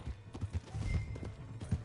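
Horse hooves clip-clopping in Red Dead Redemption 2, a quick, uneven run of soft low thuds over under two seconds, faint and close.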